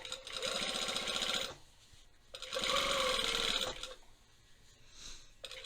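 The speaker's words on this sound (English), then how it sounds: "I am stitching my seam allowance to the pocket side, and we are just going to stitch close to that original seam line" Domestic sewing machine stitching a trouser seam allowance to the pocket close to the original seam line, running in two steady motorized bursts with a brief pause between, close and fairly loud.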